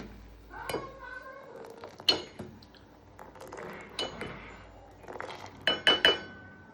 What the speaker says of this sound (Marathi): थोडा उकळलेला चहा आपण थोडा हलवायचा